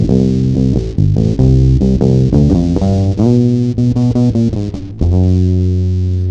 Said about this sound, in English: So a nice distortion on this one.